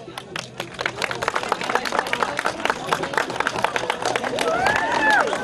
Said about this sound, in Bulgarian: Да, наистина заслужават аплодисменти.